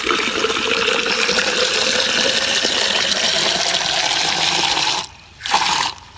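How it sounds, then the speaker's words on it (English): Water pours steadily into a tube for a chemistry demonstration on making hydrogen gas, a continuous rushing stream that cuts off briefly near the end and then resumes, with no talking. "I'm going to fill it up with water, so you can see that."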